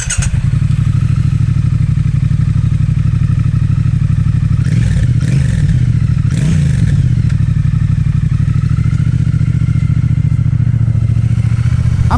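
A stock Triumph Speed Twin motorcycle engine runs loud and close with a steady, thumping twin-cylinder idle, broken by a few brief throttle blips midway.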